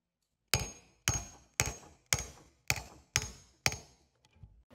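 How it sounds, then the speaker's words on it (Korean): Seven sharp, evenly spaced hammer blows ring out on the back of a carving knife cutting into hard, lightning-struck jujube wood, each crack decaying quickly, close and loud with no voices. "우리가 사실은 칼등을 망치로 떼게 되면은"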